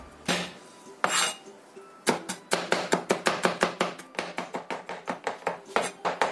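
A knife finely chops roasted eggplant filling on a board. A few separate strikes lead into a quick, steady run of close, crisp chops with no voices.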